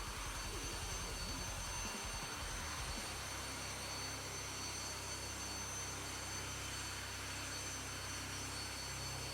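Saab AJS 37 Viggen jet engine in the DCS flight simulator roars steadily during takeoff, a broad, constant whooshing drone after a brief rumbling start, with no talking.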